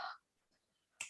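Two crisp finger snaps, one at the very start and one near the end, separated by quiet, each a short sharp click.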